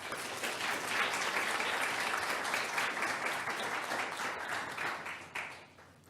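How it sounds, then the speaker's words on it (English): An audience at the ROAR 2017 conference gives a round of applause for its speakers, dense clapping held steady and then tapering off at the end. "I'd ask you to please give another round of applause to all of our outstanding speakers"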